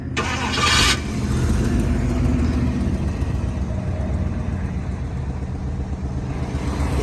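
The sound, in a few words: 1956 Ford Crown Victoria 312 engine starting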